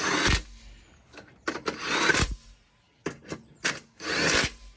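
Impact wrench on the half-inch bolts of a riding mower's mandrel housing, firing in several loud, rattling bursts separated by short pauses, close and without talk.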